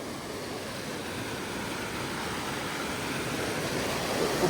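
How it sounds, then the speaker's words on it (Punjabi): A small waterfall stream in Himachal's Barot Valley rushes steadily, a continuous broad roar of falling water with no pauses. "ਇਧਰੋਂ ਵੀ ਡਿੱਗ ਰਿਹਾ ਇੱਕ ਝਰਨਾ"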